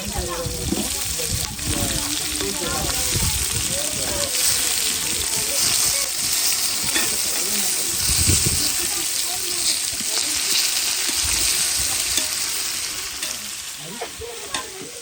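Chopped onion sizzles and fries in a pan while being stirred, a steady close hiss with scraping stirs, cooked for a festival biryani feast; faint talk in the background.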